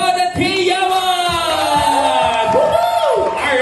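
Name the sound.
party guests clapping and cheering loudly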